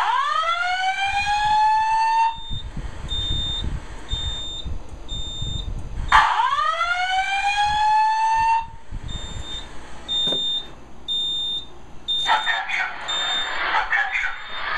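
A Simplex 4006 voice evacuation fire alarm system sounds indoors with loud repeated rising whooping sweeps, each followed by steady electronic tones, cycling several times with brief pauses while people talk faintly in the background.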